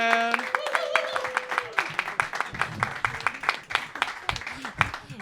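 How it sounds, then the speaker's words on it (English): An audience at a comedy roast battle claps steadily in a crowd-wide burst of applause, with a few voices and cheers mixed in. "So start clapping right now"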